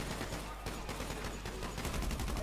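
Rapid gunfire from an online shooter game, a continuous burst of shots filling the whole stretch at steady loudness with no pauses.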